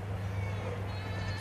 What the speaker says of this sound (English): We got dairy goats they can hear.